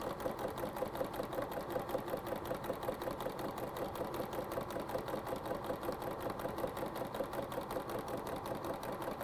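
A sewing machine runs steadily as quilt fabric strips are chain-pieced for a table runner, its close, even stitching hum continuing without a pause for about nine seconds.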